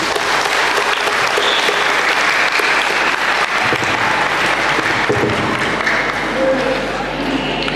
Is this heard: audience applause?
yes